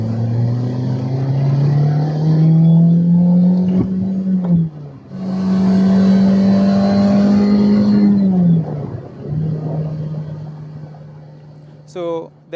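The VQ engine of an Infiniti car revs up in long, steady pulls that rise and settle, separated by brief drops. It is loud and close, with a short rattle near the end.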